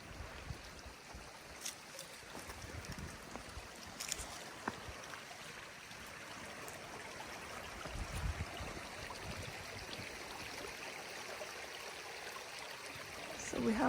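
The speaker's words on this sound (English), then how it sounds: "there's a little creek right outside of our tent" A small creek flows right beside a tent at a windy trailside camp, its steady, faint babble of water running continuously and softly without any voices.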